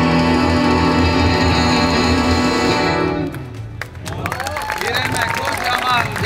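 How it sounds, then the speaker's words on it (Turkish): Applause and crowd noise rise at a Turkish award ceremony after loud music with sustained tones cuts off partway through, leaving a busy mix of clapping and murmuring voices. "Alkış"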